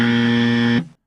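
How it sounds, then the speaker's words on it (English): One sustained harsh buzz, loud and steady, cuts off abruptly near the end. It comes from a Fisher-Price toy barn door standing in for a game-show buzzer. "Is my buzzer the barn door from the Fisher-Price barn?"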